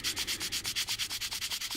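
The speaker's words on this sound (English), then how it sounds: "remember the cross sanding technique." Hand sanding a plastic part from an Arii Ghost Box model kit with a cross-sanding stroke: a steady, rhythmic rasp of about fourteen quick back-and-forth rubs, close and fairly quiet, with no voices.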